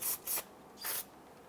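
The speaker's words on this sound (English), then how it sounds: "Give this a quick spray with some solvent to clean up that brake fluid." Three short hissing bursts from an aerosol solvent spray can cleaning brake fluid off rear brakes of a Ford Explorer, close up, with brief pauses between them.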